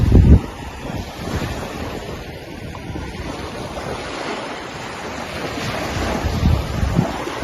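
Waves wash onto a white-sand beach under strong wind buffeting the microphone, a continuous roaring surf with louder surges at the start and end and no voices.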